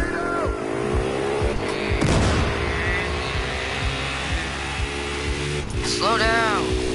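Dirt bike engine in Battlefield Hardline droning and revving over game noise, with a brief skid and a crash-like burst midway, while voices talk excitedly over it.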